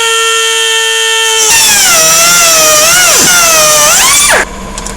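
A power tool cutting a threaded bolt on a Mini Cooper during suspension work, a loud high-pitched whine that rises and wavers as it bites, then stops abruptly.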